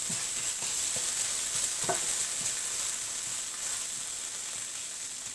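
Tomato puree mixture stirred and frying in a pan, a steady soft sizzle with scattered scraping strokes of the spoon, close and fairly quiet, no voices.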